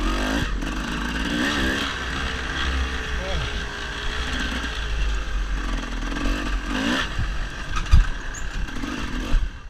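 Off-road dirt bikes race through a hare scramble course, engines droning steadily with rising and falling revs as lapped riders pass close by, a loud continuous motor roar throughout.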